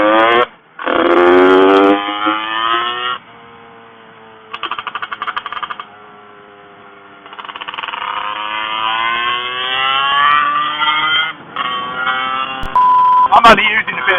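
A Lambretta Casa Performance SSR 265 LC scooter with a 56 hp engine revs hard on the road, its high-pitched two-stroke whine climbing through the gears with brief throttle lifts and shifts, loud and close, with wind rush.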